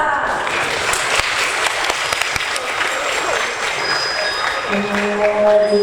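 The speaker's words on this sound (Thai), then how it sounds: "ขอเสียงปรบมือต้อนรับ" An audience at a Thai school Teachers' Day ceremony applauds loudly and continuously to welcome performers, a dense sustained clapping with voices and faint tonal sounds mixed in near the end.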